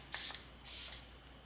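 Two quick hissing sprays of a citrus-scented Dream Veil hair and body fragrance mist, each roughly a quarter second long, close and fairly soft in a quiet room.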